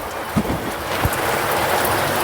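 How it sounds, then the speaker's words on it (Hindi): Heavy rain pouring down all around outdoors, a dense steady hiss of falling water with a few dull thuds, filling the scene evenly without any voices. "देखिए चारों तरफ से पूरा बारिश हो रहा है।"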